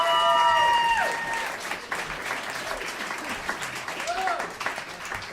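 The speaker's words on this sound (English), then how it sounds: "Put your hands together" Audience at a Comedy Works club in downtown Denver applauding a comedy headliner, dense clapping with cheers and whoops; a brief whistle or squeal rises over the start.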